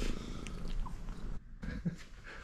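A cat with a bobbed tail purrs steadily up close, a soft continuous rumble with brief snuffles and a short pause midway.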